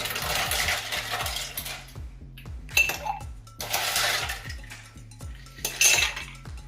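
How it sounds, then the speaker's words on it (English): Ice goes into a metal cocktail shaker in bursts of rattling clatter, with sharp clinks and cubes tumbling against metal, loud and close, separated by brief quieter gaps. "I'll fill the shaker about halfway up with ice or so."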